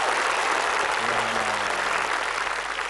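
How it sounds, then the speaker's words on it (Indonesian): Studio audience applause on the Indonesian TV game show Famili 100: dense, steady clapping fills the whole stretch at an even loudness, with a faint low hum partway through. "Tepuk tangan untuk Putri ya"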